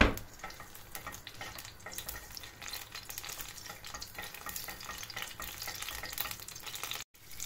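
Margarine and a little oil sizzle in a wide pan, giving a steady, fairly quiet crackling hiss that continues alone throughout.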